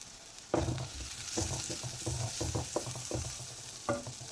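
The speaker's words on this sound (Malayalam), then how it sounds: "ഒന്ന് ഇളക്കി കൊടുക്കണം" Spoon stirring Sambar cheera thoran in a frying pan, with a steady low sizzle and a run of scraping, knocking strokes against the pan at close range, and no talking.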